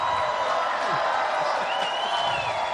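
Crowd cheering and whooping at a comedy show during a crowd surf, a dense steady roar of many voices with scattered shouts throughout.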